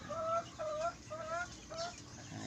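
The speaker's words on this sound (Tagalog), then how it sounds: "Update lang tayo mga idol sa ating munting manukan mga idol." Chickens at a small poultry farm cluck in short repeated calls, four or five rhythmic bursts close by, over a low rumbling background with no talk.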